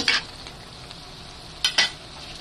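Vegetables seasoned with black pepper stirred in a frying pan, a soft steady sizzle broken by a few quick scraping strokes at the start and near the end, close and alone.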